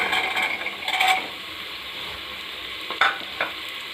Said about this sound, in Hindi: और उसको थोड़ी देर और फ्राई होने देंगे, 2 मिनट।